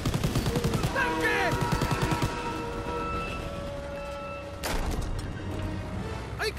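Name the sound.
gunfire in Call of Duty: WW2 video game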